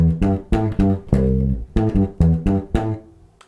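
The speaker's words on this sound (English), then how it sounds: "So let me take apart the bass line for the A section." A funk bass line plays the A-section groove, short punchy plucked notes in a syncopated two-bar pattern, close and prominent with no voices.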